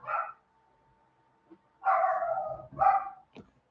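A dog barks a few times near a backyard pool: one short bark, a pause, then two longer, closer barks in quick succession, with a faint knock between them.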